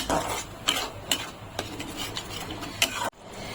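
Chutney being stirred in a pan after vinegar and sugar go in, a spoon scraping and clinking against the metal in irregular strokes over a faint sizzle, close and fairly quiet.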